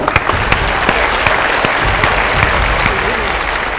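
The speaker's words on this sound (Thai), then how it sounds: "ขอเสียงปรบมือให้กับทั้ง2 ทีมครับ" Studio audience applauds both competing chef teams at the close of an Iron Chef Thailand cooking battle, loud steady clapping with sharp individual claps standing out across the whole stretch.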